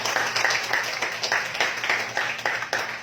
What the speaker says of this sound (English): How about a big clap for this product?